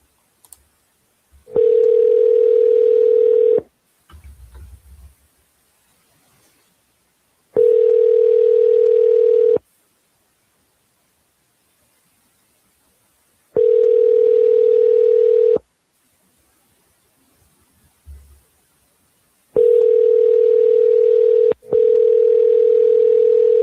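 Ringback tone on an outgoing phone call: four clear, evenly spaced ring bursts, each about two seconds long with quiet gaps between, heard alone with faint line noise.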